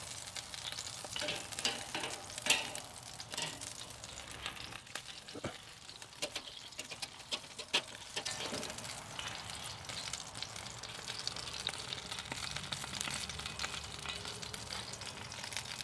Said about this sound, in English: Now I can hear the skin getting crispy.